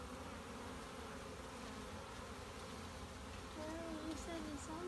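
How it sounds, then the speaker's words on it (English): Honeybees buzz in a faint, continuous hum from an open beehive during inspection, with people talking quietly near the end. "Some of the bees are working inside, cleaning them out"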